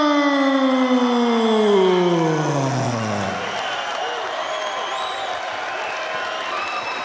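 A packed boxing arena crowd in Auckland roars in a frenzy for a heavyweight fight, a loud sustained wash of cheering under a falling siren-like horn that fades after a few seconds, leaving continuous crowd noise.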